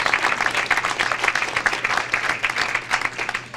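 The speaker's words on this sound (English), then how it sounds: "Let's give them a big round of applause." Steady audience applause fills a community event honoring a school planning committee, dense and sustained clapping from a sizable crowd throughout, fairly loud with no speech over it.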